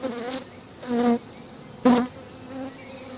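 Honeybees buzz on a hive frame, with a low hum punctuated by a few louder, closer buzzing bursts as individual bees pass near.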